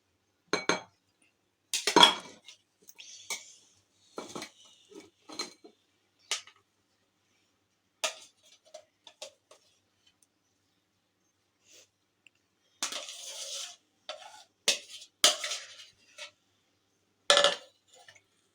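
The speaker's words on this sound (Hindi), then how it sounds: "अब मैं इसको डिश आउट कर रही हूँ।" Serving utensils clink and scrape against a glass dish while Russian salad is portioned out, sparse close taps and chinks separated by quiet pauses.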